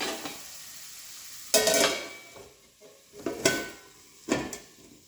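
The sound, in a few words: frying food until reddish brown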